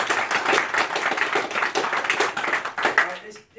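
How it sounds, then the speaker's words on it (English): A crowd gives a dense, steady round of clapping that runs for a few seconds before trailing off near the end, with voices mixed in. "Can we have another round of applause?"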